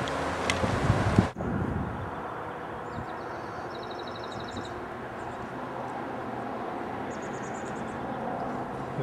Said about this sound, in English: Bringing it in low, into a strong wind.